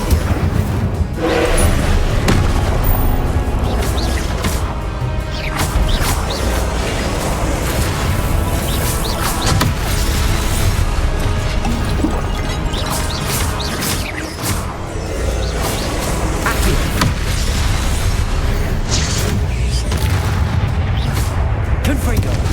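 Repeated fiery spell blasts and booms erupt in a Hogwarts Legacy battle, a dense, loud, continuous barrage of explosive impacts with layered crackling bursts and game mechanisms.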